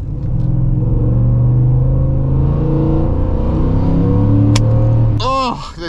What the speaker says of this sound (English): I can't get over this engine, just sounds insane.